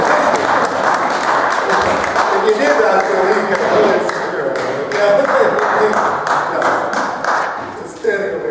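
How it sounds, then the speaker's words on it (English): Audience clapping at a talk on lawsuits, a loose, uneven patter of hands mixed with chatter, while a speaker's voice continues over it. "I was waiting for an applause"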